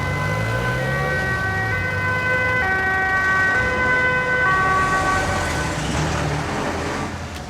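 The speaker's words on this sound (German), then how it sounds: "Wieso ist denn der Krankenwagen hier?" An ambulance siren wails steadily in two alternating tones, loud and close, with road rumble underneath and no voices.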